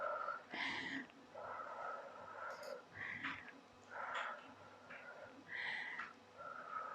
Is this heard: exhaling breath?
yes